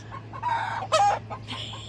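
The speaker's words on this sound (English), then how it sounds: "when Laddie would join the egg songs, Laddie's got a very good voice" Backyard hens cluck and call in a short, loud burst of rising squawks, the egg song rising to a sharp peak near the middle before tapering off, close and alone.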